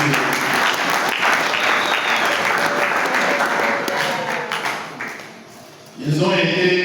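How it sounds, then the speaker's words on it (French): Audience applause at the closing ceremony of an academic colloquium, a dense, steady wash of many hands clapping close by that thins out near the end before a voice speaks over the last of it. "Puis solliciter de nouveau pour eux vos acclamations en ce jour."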